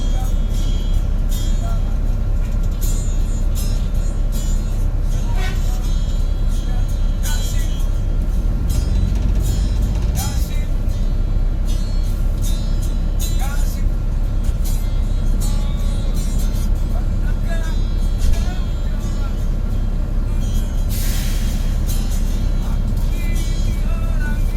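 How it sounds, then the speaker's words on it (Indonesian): Busy bus terminal at Tanjung Priok, Jakarta, with steady traffic rumble from cars and buses, engines idling and passing, and constant background chatter from people nearby throughout. "kita udah tiba di terminal Tanjung Priuk untuk menjemput penumpang nih di sini"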